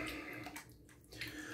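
A tap runs into a bathroom sink during a shave, giving a quiet, steady stream of water that briefly falters and then resumes.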